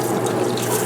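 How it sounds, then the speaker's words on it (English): Water rinses and drains inside a Panda portable washer and spin-dryer, a steady close rushing wash with no talk. "And I just give it a little rinse on the inside."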